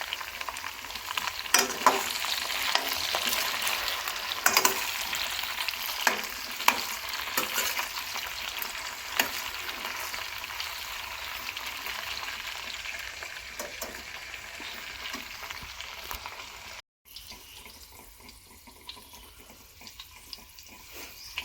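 Okra fries in a pan for bhindi sabzi, with a steady close sizzle and occasional stirring scrapes all the way through, broken only by a brief gap near the end, with no voices.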